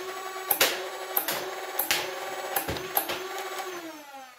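A toy flywheel blaster firing pro darts, several whirring motor spin-ups each punctuated by a sharp launch crack, about six shots in quick irregular succession, close and clear with no talk.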